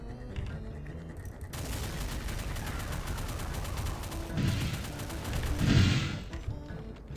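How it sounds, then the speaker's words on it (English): Gunfire in the Doom game with the Complex Doom mod: a rapid, continuous stream of shots with a few heavier booming blasts near the end, loud and dense, and no talking over it. "Let's just put some bullets in this guy."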